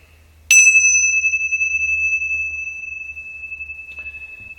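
A single bright Tibetan temple bell strike rings out with a clear, sustained metallic tone that slowly fades over several seconds, with a low hum underneath and a soft clink near the end.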